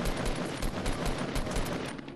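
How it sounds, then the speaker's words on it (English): Rapid bursts of automatic gunfire in a Fortnite Battle Royale match, a dense run of shots rattling continuously across the whole moment with no talk over it. "They're shooting me on top of the hill."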